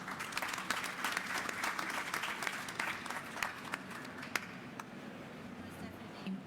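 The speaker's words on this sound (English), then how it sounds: "So I think the next applause is for them." An audience applauds at a climate-themed panel discussion. The clapping is moderately distant and strongest at first, then thins into scattered claps and fades out, with a little talk mixed in near the end.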